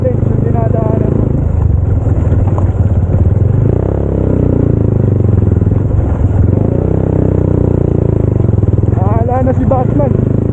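A motorcycle is ridden along a road on a mountainside, its engine making a loud, steady, close rumble with clatter, while someone talks over the noise the whole time.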